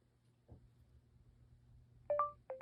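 Two short electronic beeps from a Blindshell Classic 2 phone ring out in close succession over a quiet background, preceded by a soft click.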